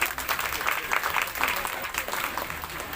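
Clapping from a crowd at an Utkal women's organization gathering honoring President Droupadi Murmu, a steady, fairly loud wash of applause lasting a few seconds with no pauses.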